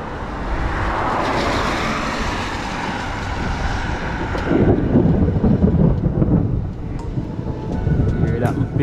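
Thunder rolls during a storm out at sea, a long low rumble swelling and fading beneath wind buffeting the microphone, with a person talking over it.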